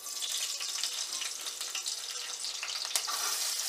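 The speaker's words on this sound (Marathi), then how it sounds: "आता आपण फोडणीसाठी त्यामध्ये मिरची टाकून घेऊयात." Green chillies sizzling in hot oil for a tempering, a bright crackling hiss that stays steady and close, with a small sharp pop near the end and no one speaking.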